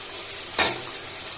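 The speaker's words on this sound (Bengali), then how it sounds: "ভেজে রাখা পেঁপে আর আলু এখন দিয়ে দেব" Fried papaya and potato drop into a hot pan for a papaya chicken curry, giving one brief thump followed by a steady close sizzle.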